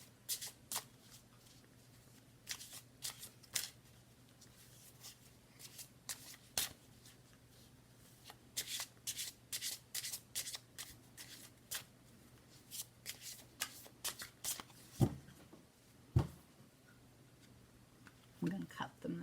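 Tarot cards are shuffled by hand in quick, crisp riffling bursts, repeated many times, close and fairly quiet over a soft steady hum.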